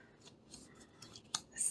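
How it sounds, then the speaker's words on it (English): Tarot cards are shuffled close up in short, soft riffling bursts with brief pauses between them, quiet and rustly against a silent background. "I feel like I'm shuffling here forever"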